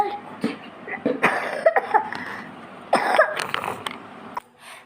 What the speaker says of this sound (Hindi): मेरे बेटे को ना खांसी हो रहा था